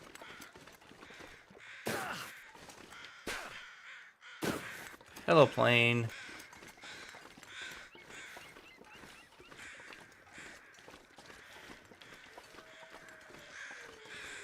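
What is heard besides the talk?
crows cawing in The Long Dark video game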